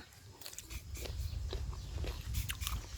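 Crunchy bites and chewing of a raw purple vegetable, eaten close up in a steady series of crisp crunches and soft mastication over a low background hum.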